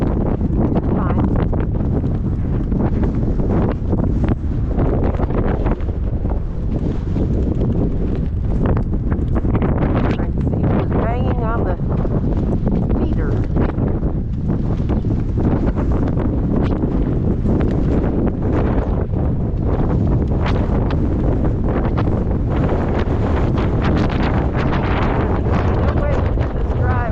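Gale-force storm wind buffets the microphone nonstop during a drive in a GTR, a loud, rumbling roar of broadband noise that surges and gusts without a break.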